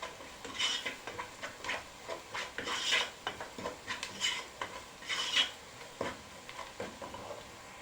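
Spices sautéed and stirred in a pot for stuffed vegetables (mahshi): soft rhythmic scraping and rubbing strokes from a spoon against the pot, with a faint sizzle, close and without speech.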